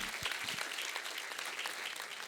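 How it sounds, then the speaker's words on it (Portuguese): A church congregation applauds during a Pentecostal worship service, a dense, steady wash of many hands clapping close by, loud and sustained with no voices standing out. "Dê uma salva de palmas a Jesus."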